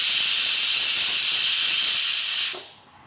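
A pressure cooker boiling beef and liver lets out a loud, sustained hissing steam whistle for about two and a half seconds, then cuts off abruptly into quiet.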